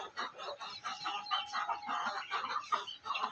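Aseel chickens cluck in a backyard coop near pigeon cages, a busy overlapping stream of short nasal clucks and calls from several birds at close range, with no voices.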